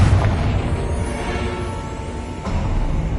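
A Confringo fire spell goes off in Hogwarts Legacy, a loud booming blast with a dense low rumble and crackle lasting the whole moment, and a second burst near the end.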